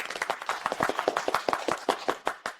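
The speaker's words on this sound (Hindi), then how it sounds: "कृपया तालियों से स्वागत करें" A small group of people claps steadily and briskly in welcome for a new investor, close and fairly loud, with no talking over it.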